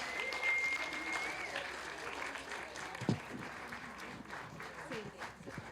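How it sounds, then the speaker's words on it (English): A crowd applauds storytellers and winners at a StorySLAM event, with continuous clapping beneath nearby talking voices and a brief loud knock midway. "we give a round of applause for our winners"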